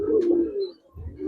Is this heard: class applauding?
no